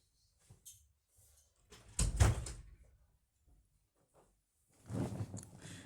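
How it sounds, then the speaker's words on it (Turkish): A door is pulled shut indoors, with a few light clicks and then one solid thud, followed a few seconds later by a second burst of shuffling noise. "Kapıyı kapatıp geliyorum."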